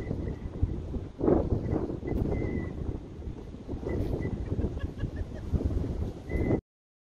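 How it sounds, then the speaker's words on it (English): Strong outdoor wind buffets and roars against a microphone in steady gusts, loud and continuous with no talking. "The wind was actually really crazy on my first attempt"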